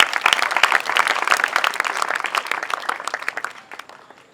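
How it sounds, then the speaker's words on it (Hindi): An audience claps at a prize-giving ceremony at a fair, a dense burst of applause that starts loud and thins out toward the end, with no clear speech. "तालियां हो जाए यार, तालियां।"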